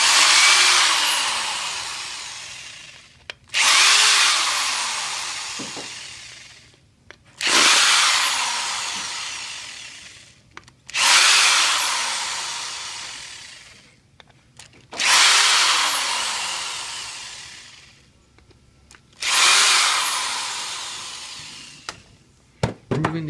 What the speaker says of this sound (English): we're going to remove the other 5 screws to disassemble the 3 parts that make up the pump head